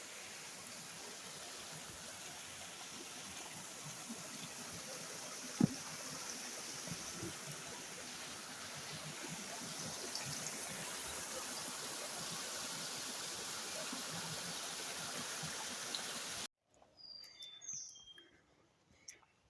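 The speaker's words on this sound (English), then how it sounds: "More waterfalls." Steady rushing of waterfalls along the Profile Trail on Grandfather Mountain, a broad continuous roar with faint bird chirps, one brief knock, then a quieter stretch at the end.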